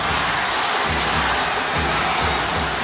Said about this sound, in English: And the LaSalle crowd goes crazy.